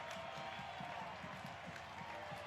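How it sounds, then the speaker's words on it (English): A crowd at Starfire stadium cheering and applauding after a Sounders goal in a U.S. Open Cup fourth-round match against the Timbers, a distant, steady wash of claps and voices at low volume. "Crowd fired up here at Starfire as the Sounders take a 2-1 lead here in the 4th round of the U.S. Open Cup"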